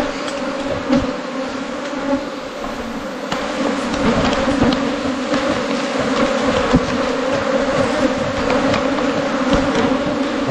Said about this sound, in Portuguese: E é abelha, hein?